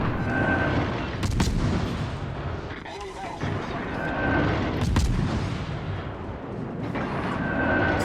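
Repeated naval gunfire from the destroyer USS Kidd in World of Warships Legends, heavy booming salvos over a constant rumbling battle bed, with a faint voice mixed beneath.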